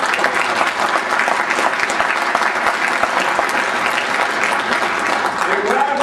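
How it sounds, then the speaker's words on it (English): An audience at a state Democratic party winter event applauds two candidates for governor, with dense, sustained clapping that stays loud and even for six seconds, joined by faint crowd noise. "Give them a great round of applause."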